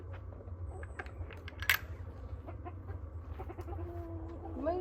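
Backyard chickens at their morning feeding give soft scattered clucks and short calls over a low background rumble, with a brief sharp click near the middle and a rising squawk at the end.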